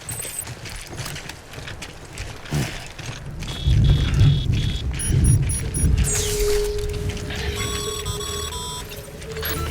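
Timefall rain and rumbling thunder in Death Stranding: a steady wash of rainfall over low booming rolls, with electronic beeps and tones cutting in partway through, no speech.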